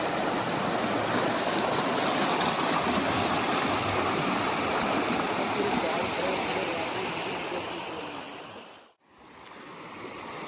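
Mountain stream water in Rishikesh rushes loudly and continuously in a dense, broad roar, close by, before abruptly cutting out near the end and resuming.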